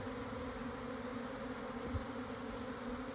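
A swarm of honeybees hums steadily and thickly all around, a dense, even buzz at moderate loudness with no pauses and no voices.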